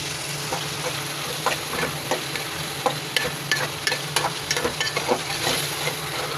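Small potatoes and a large eggplant sauté in a pan: a steady sizzle with scattered scraping stirs and light clicks of a utensil, close and fairly loud, no voices.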